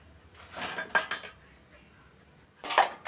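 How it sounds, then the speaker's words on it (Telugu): A bowl or plate is set down onto a metal kadai, giving a few sharp close clinks and clatters, one burst early and another near the end, with quiet between. "ఇప్పుడు అదే కడాయి మీద గిన్నె పెట్టుకుంటున్నానండి, ప్లేటు."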